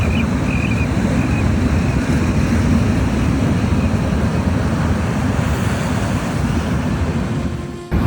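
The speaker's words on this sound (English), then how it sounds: "Pacific Ocean, Los Angeles, California." Broad, steady wash of Pacific Ocean surf on the Los Angeles, California coast, a continuous roar with wind buffeting the microphone throughout.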